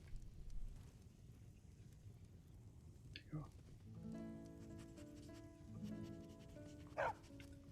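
A dog barks and pants in a video game, with scattered yips and whimpers over a low ambient background, alongside game music tones and a brief voice.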